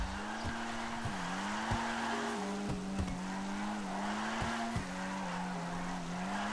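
Drifting car in GTA Online, a continuous engine tone wavering up and down with throttle changes while sharp tire chirps and clicks recur every second or so, no talk.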